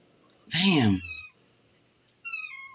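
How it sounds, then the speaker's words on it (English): A cat meows loudly and close by once, then gives a shorter, softer meow a moment later, with quiet between the two calls. "I got distracted with the cat"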